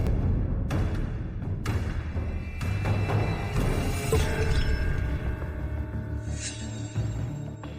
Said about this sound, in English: If it were a real bronze piece, how could it be smashed so easily?